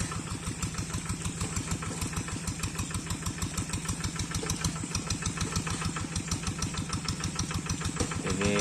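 Tractor engine idling close by with a steady, rapid diesel chug, evenly pulsing and moderately loud throughout, heard alone without voices.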